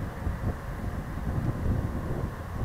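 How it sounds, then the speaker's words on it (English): Strong wind roars steadily across a microphone outdoors at an airfield, making a dense, continuous rumbling buffet with no pauses. "That's a large wind."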